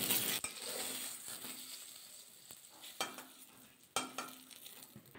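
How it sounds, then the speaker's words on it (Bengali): Eggplant slices frying in a pan, a quiet, soft sizzle broken by a few sharp clinks and scrapes of a utensil against the pan. "বাকি বেগুনটা ঠিক এভাবে ভাজা করে নেব।"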